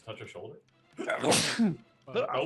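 One person sneezes sharply and loudly in the middle of a tabletop roleplaying game session, with other players talking just before and right after it.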